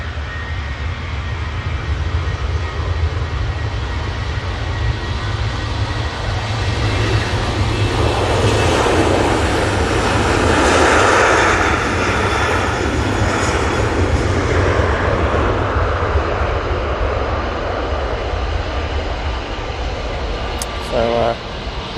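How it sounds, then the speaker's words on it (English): Airbus A330 airliner passing overhead at Manchester Airport, a loud sustained jet roar that swells to a peak around the middle and slowly fades, with faint talk underneath. "we've got our first A330 coming over now"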